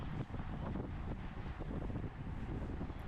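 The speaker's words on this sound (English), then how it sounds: "you should get a decent indication of how hard the wind is blowing right now" Strong wind buffeting a microphone outdoors at the finish line of a masters bicycle race, a loud, constant low roar and rumble with no break throughout.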